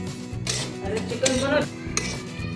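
Semolina (rava) roasts in oil in a pan while a spoon scrapes and clinks steadily against the metal, close and fairly loud, with a continuous gritty stirring texture.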